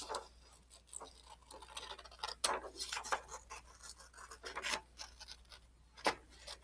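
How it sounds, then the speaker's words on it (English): Scissors snip through paper in a quiet, irregular series of short crisp cuts, close and isolated in a hushed room. "go ahead and cut it with the scissors"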